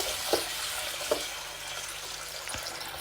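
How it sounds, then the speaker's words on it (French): Food being rinsed under a running tap, a steady hiss of flowing water broken by a few sharp knocks and clatters from handling at the sink. "Ensuite, on le rince."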